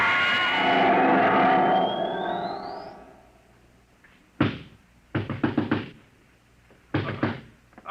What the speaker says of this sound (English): He'll break down the door in a minute.